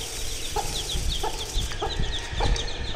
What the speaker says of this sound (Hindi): तो ये रही हमारी मुर्गी